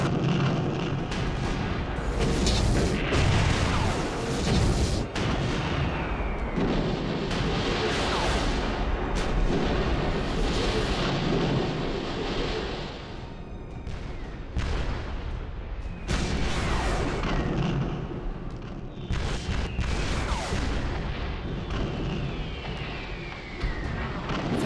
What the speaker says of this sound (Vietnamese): Các chiến hạm tập trung bắn tàu quản ức.